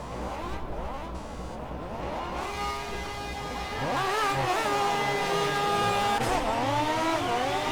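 Drift car engine in the Project CARS racing game, revving and climbing through gears with rising and falling whines, shifting pitch as the throttle is worked, steady and loud with no talk.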